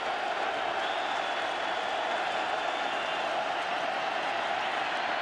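An NFL stadium crowd at a Patriots at Colts game roars on third down, a continuous full-throated wall of noise that stays loud and unbroken throughout.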